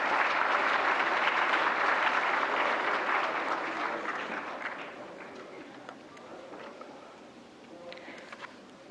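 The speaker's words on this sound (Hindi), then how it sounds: "तालियों से स्वागत करें माननीय मंत्री जी का।" An audience applauding to welcome a minister onto the stage at a national film awards ceremony, loud sustained clapping that gradually thins and fades over several seconds.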